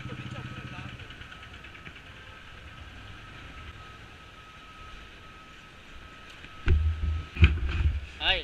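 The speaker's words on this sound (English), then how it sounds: "The petrol launch now." A petrol launch boat's engine runs with a steady droning hum and a thin whine, then several heavy close thumps and knocks near the end. Low voices can be heard at times.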